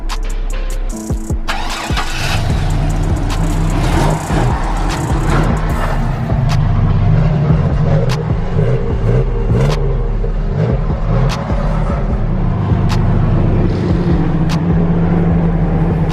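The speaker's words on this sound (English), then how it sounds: "We gotta burn a little bit of gas. We're gonna do a little burnout." A lifted Chevy Silverado truck engine roars loudly and continuously, revving hard with a deep, sustained rumble for a burnout, close up and with no talking.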